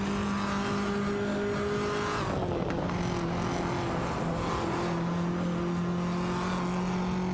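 Racing cars in a video game, a Honda Civic FE and a Ford Focus RS, steady loud engine drone with shifting pitch as gears change, continuous and close with no talking.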